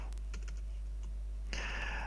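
Typing at a computer keyboard while entering a filesystem-check command on Ubuntu: scattered soft key taps give way to a denser, brighter burst of keystrokes near the end, close and alone with no talk.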